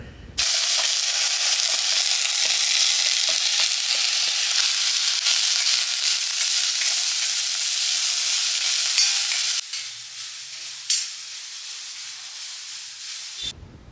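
A loud, steady sizzle of grated coconut, shallots and curry leaves roasting in a hot pan fills most of the clip, then drops to a quieter crackle with a brief clatter.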